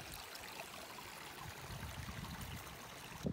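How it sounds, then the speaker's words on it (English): A partially frozen creek flows in a wooded outdoor setting, a faint continuous trickle and gurgle of water heard from a short distance. "It's cool, partially frozen creek here."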